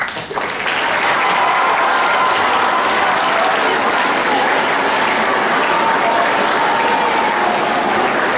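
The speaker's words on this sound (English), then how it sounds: "Two big claps for that candidate speech." A school audience applauds after a candidate's speech, a dense, steady wash of clapping that swells quickly and holds loudly for several seconds with no voices over it.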